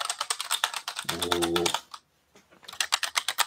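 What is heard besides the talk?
typing on white MSI keyboard keys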